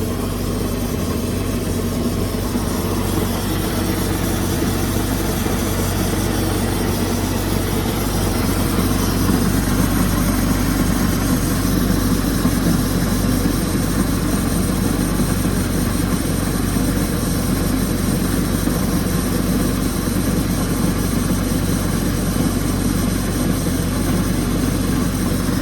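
The engine of a 2008 Bayliner 185 boat idles steadily and loudly up close with a constant low rumble and a mechanical whir, no voices.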